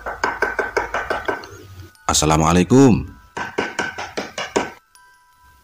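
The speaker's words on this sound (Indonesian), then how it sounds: "Perlahan aku mengetuk pintu." Knocking on a door at night in a quiet house, with two rhythmic bursts of rapid hollow wooden raps separated by a brief spoken greeting from a voice at the door.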